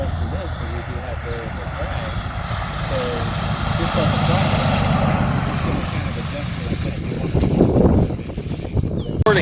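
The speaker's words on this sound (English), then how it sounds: "here's the tow plane" A glider tow plane's propeller engine drones steadily nearby and swells louder toward the end, with voices talking underneath.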